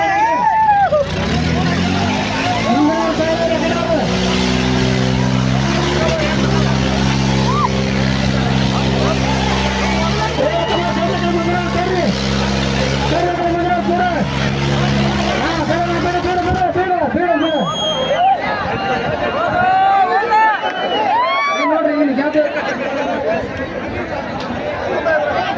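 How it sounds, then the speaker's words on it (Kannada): Engines of vehicles racing past a crowd roar and drone with shifting pitch, loud and continuous, under constant crowd chatter and an announcer's voice. "ನೋಡ್ರಿ ನೋಡ್ಬಿಟ್ಟು ಗಾಡಿಗಳು ತಗೊಂಡು ಬರ್ತಾವ"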